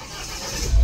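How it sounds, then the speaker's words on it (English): A car engine cranks and catches, its rumble swelling loud and low at the very end of a short moment inside a parked vehicle fitted with a dash camera. "So let me just start my car."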